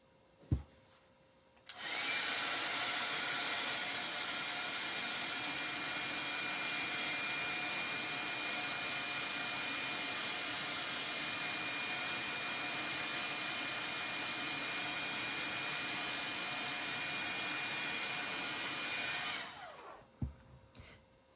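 A heat tool dries embossing powder with a steady, loud, blowing whoosh that runs unbroken for about eighteen seconds, then cuts off, with a couple of small clicks at the start and end.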